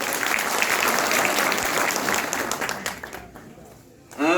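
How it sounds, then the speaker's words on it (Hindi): An election rally crowd in Sultanpur breaks into thunderous applause, dense and loud, then thins out before a voice cuts in at the end. "तालियों की गड़गड़ाहट से आप लोग इस चीज को बताने का भी कार्य करें"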